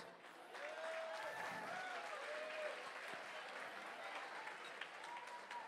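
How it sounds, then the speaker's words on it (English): Sustained audience applause at a charity gala honoring the organizing committee, a dense steady wash of clapping with some voices heard faintly underneath throughout. "Please join me in an applause to say thank you to the committee members."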